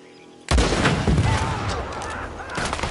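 A sudden loud burst of gunfire erupts in a Red Dead Redemption 2 shootout, followed by a sustained, dense wash of shots and rumbling that stays strong and slowly tapers, with no speech.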